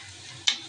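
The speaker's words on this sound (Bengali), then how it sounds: "আমি ডালটা বাগার দিচ্ছি" Dal being tempered in hot oil, a sudden loud sizzle bursting in over a quiet kitchen background and fading slightly as it settles.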